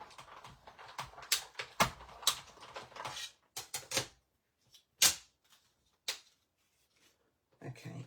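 A tabletop die-cutting machine cuts a paper tag with a series of sharp mechanical clicks and ratcheting cranks, irregular and close, with quiet pauses in between and a voice heard briefly.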